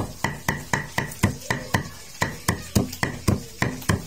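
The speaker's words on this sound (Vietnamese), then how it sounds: "Đây mình là băm cá để làm nhân chín luôn." A knife mincing fish on a board to make a filling. Sharp chopping thuds land in a fast, even rhythm, roughly four per second, close and loud, with no talking.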